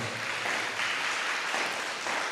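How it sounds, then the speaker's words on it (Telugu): A church congregation claps loudly in praise of God, a dense, steady wash of applause throughout with no talk over it. "గట్టిగా చప్పట్లు కొట్టి దేవుని స్తుతిద్దామా?"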